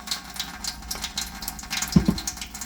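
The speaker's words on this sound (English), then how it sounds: "then you're just going to dump that into the sink" Rinse water from washing homemade goat milk butter is dumped into a sink, a short watery pour and splash that peaks briefly near the middle and sits over faint background noise.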